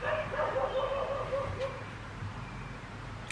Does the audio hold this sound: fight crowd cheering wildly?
no